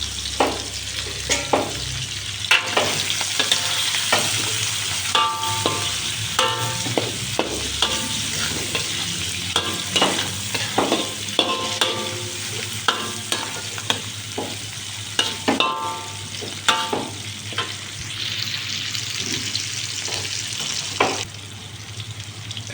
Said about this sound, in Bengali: পেঁয়াজ রসুন, কাঁচামরিচ দিয়ে দেওয়া হলো। এগুলোকে কষাই নিই